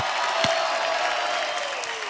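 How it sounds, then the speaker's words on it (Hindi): Studio audience at a comedy show tribute claps in a dense, continuous wash. The applause stays steady and fairly loud across two seconds, with no voices rising above it. "एक बार जोरदार तालियां बनती है"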